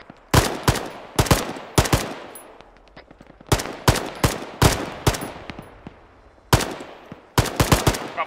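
Arma 3 gunfire crackles in sharp, loud bursts of several rapid shots, separated by short gaps, with the reports echoing away between volleys and no talk over them.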